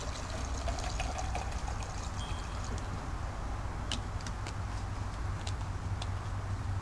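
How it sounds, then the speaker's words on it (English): Water pours steadily into a shaker bottle holding pre-workout powder, a continuous close splashing trickle lasting several seconds with no talking. "Take my water, throw it off in there."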